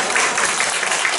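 Brief burst of clapping from a church congregation during a Sunday sermon quiz, dense and loud for about a second.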